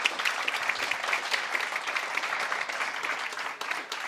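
Audience applause at a design systems meetup in London as a speaker leaves the stage, a steady dense clapping from a mid-sized crowd, sustained and even, fading slightly near the end.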